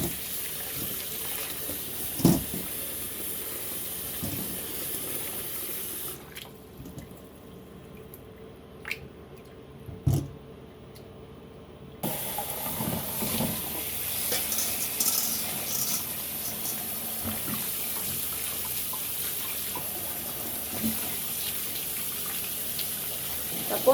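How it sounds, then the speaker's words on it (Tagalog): Tomatoes being washed under a running kitchen tap, a steady rush of water with clinks and splashes as they are handled, the flow dropping out briefly midway before resuming. "So, ngayon, hugasan natin yung kamatis."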